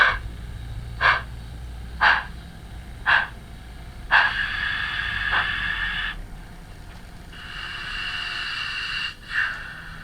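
A model GWR Manor class steam locomotive's DCC sound: rhythmic steam chuffs repeat about once a second, followed by a longer hiss of steam release, over a low mechanical hum.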